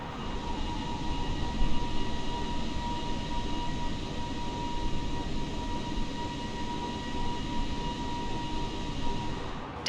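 A Volaris Airbus A320 at cruise altitude in Microsoft Flight Simulator 2020, a steady, even engine hum and cabin rumble with no voices.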